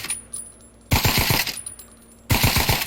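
An AK rifle in the Pavlov VR game fires two loud, close bursts of several rapid shots each, with a brief quieter gap between them.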